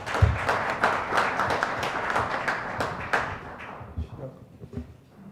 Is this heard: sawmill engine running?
no